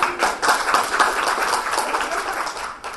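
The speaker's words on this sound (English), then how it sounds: "Everybody, let's give Jessica a round of applause." Audience applause at a forum session, a steady dense wash of many hands clapping together, fairly close and even throughout the few seconds before tapering slightly at the end.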